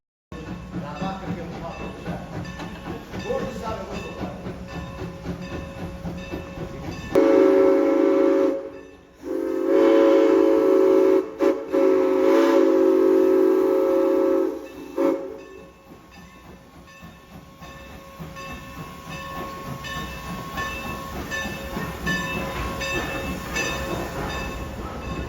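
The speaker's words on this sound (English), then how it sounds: "Norfolk and Western M Class number 475 would take center stage at" Norfolk and Western M Class steam locomotive No. 475 on the Strasburg Rail Road sounds a loud, sustained whistle in several long blasts with a brief break, set against rumbling train and ambient noise before and after.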